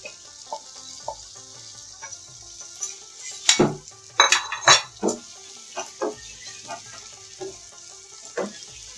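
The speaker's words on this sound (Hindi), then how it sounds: "अब मैं इसमें कीमा डाल देती हूँ।" Beef mince goes into a cooking pot of tomato masala over medium-high heat, bringing a soft sizzle with scattered clanks and scrapes of a spoon stirring, close and uneven, a cluster of louder knocks in the middle.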